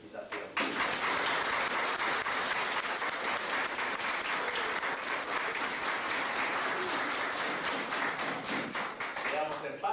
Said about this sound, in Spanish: Démosle un fuerte aplauso de felicitación.